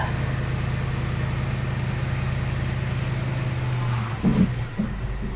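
A 1999 Cadillac Eldorado engine runs steadily with a low, even hum, then briefly revs with a short rise near the end before settling back.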